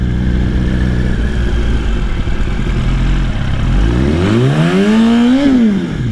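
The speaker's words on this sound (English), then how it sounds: "Dumping the clutch, I think, is the scariest part about rolling burnout." A motorcycle engine roars loudly during a rolling burnout with the clutch dumped, rumbling steadily and then revving sharply up in pitch before dropping back, close and continuous.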